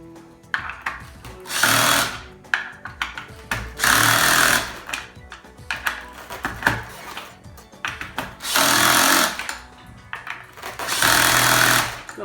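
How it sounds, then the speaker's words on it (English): A power tool drives bolts into a hoverboard wheel in repeated bursts of harsh rattling whirring about two seconds apart, with softer clicks and handling noises between them. "Once again, I'm going to get help from a power tool."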